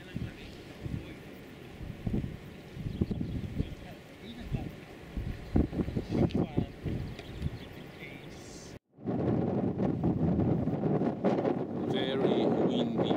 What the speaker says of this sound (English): Very windy place.